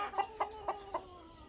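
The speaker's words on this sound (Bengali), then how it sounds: "দেখতে পারতেছেন আপনাদের সামনে মুরগিগুলো ডিম পাড়তেছে।" Laying hens on a Tangail farm cluck in four sharp, evenly spaced calls, close and clear against a quiet room, then go silent.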